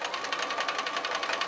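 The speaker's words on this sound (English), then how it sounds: "And I'll continue sewing." A sewing machine stitches quilt pieces for a corner star quilt, giving a fast, even rattling hum of rapid needle strokes, close and steady, with no talk.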